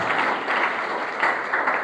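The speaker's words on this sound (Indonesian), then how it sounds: "Beri tepuk tangan terbaik buat Tuhan" Church congregation clapping in praise to God during a service, a steady wash of many hands applauding in a large hall, moderately loud and continuous.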